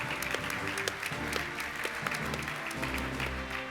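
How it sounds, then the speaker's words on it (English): Audience applause at a student sports initiative pitch event, quiet steady clapping behind a low droning background hum for a few seconds. "Let's give her a round of applause."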